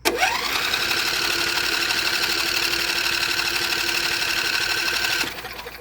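A John Deere L118 lawn tractor engine with a blow-by problem starts abruptly and runs loud and close at a steady, buzzing pitch, then drops to a quieter sound near the end.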